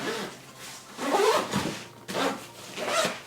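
A zipper closes a bag pocket holding a mask and hand sanitizer, in several close rasping pulls with short pauses between strokes.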